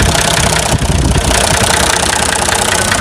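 A 1972 England-made Massey Ferguson tractor idling just after starting, a loud, close, steady engine rumble with a regular knocking pulse and no voices.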